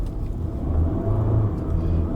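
A 2021 Honda City RS hybrid climbs uphill toward Genting Highlands, its engine droning in a low steady rumble that swells slightly as it accelerates, heard from inside the cabin.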